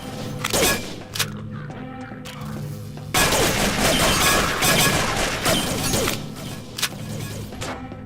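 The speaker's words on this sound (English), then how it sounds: "That was a nice beefy grenade sound" A beefy grenade blast in a first-person shooter game, a sudden loud broadband boom that sustains for several seconds of crashing debris and gunfire-like crackle, preceded and followed by quieter game ambience with sharp transient pops.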